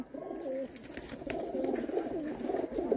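Pigeon chicks with pearl-spotted plumage, kept as pigeons for sale in Jammu, coo steadily in a low warbling stream, close and continuous over a faint background.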